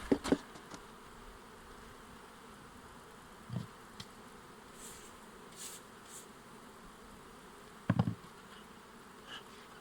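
Continuous droning buzz of many honeybees close by as hive frames are handled, with occasional louder bumps and knocks, no talking.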